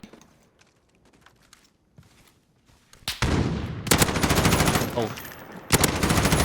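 Bursts of video game gunfire and sniper shots in a competitive match: quiet scattered shots at first, then loud, sustained rapid automatic fire with sharp cracks, rising abruptly and staying intense near the end.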